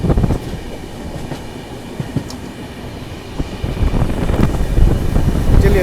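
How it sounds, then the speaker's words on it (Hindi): An AP Express passenger train picks up speed after pulling out of a station, with steady loud rumbling of wheels on rail and wind buffeting, plus scattered clanks that build toward the end. "जैसे प्लेटफॉर्म से निकली स्पीड हमारी ट्रेन ने पकड़ ली है"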